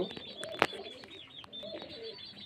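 Cooing of pigeons kept for racing at a pigeon market stall in Murshidabad, soft low coos repeating amid bird calls, with one sharp brief sound near the start.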